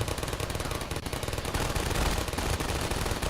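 Turrets in Half-Life 2: Episode Two fire on antlions in a dense, continuous machine-gun roar, loud and unbroken throughout.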